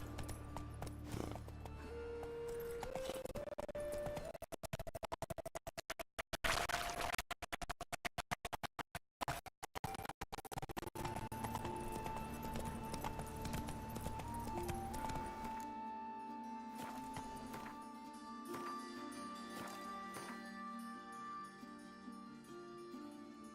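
Roach, the horse from The Witcher video game, gallops in a rapid clip-clop of hooves that runs on without a break, with game music tones sounding over it and a few scraping noises.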